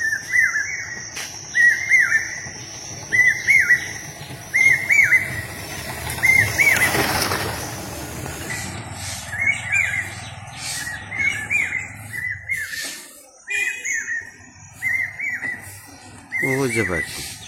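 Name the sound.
birds singing in village trees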